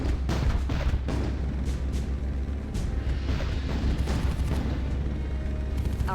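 A building destroyed in a video game battle, heard as a loud, dense rumble of booming explosions and artillery-like blasts that rolls on without pause, with a few sharper bursts standing out.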